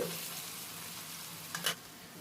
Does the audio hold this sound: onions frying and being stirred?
yes